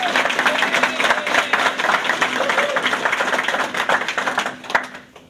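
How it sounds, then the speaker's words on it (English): A graduation audience claps steadily in a dense, sustained round of applause that fills the room, thinning out toward the end, with some voices mixed in. "Please give her a round of applause"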